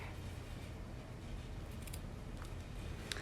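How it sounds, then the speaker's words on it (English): Scissors cut ribbon for a stamped spring card project in a quiet room, with a few soft snips and clicks, the sharpest near the end. "we're going to cut that ribbon"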